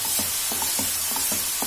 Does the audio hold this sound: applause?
no